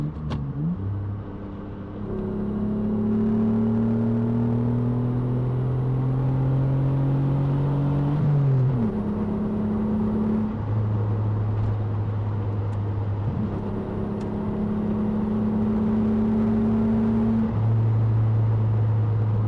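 A 1993 Mitsubishi 3000GT engine revs steadily and drops pitch between gear changes, then climbs again after the downshift. The drone is loud and continuous, with no voices.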